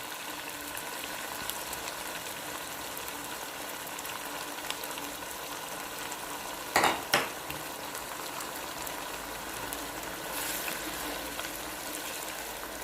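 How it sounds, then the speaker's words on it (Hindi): Meat and split black lentils fry with a cup of yogurt over high heat, producing a steady low bubbling sizzle broken by a pair of sharp scraping stir strokes midway, and a fainter scrape later on, with no voices. "अब दही डालकर हम इसको भूनेंगे मज़ीद 3 से 4 मिनट तक"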